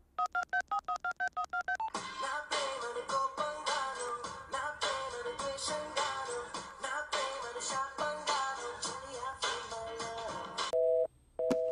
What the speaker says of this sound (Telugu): వాడికి ఫోన్ కలుపు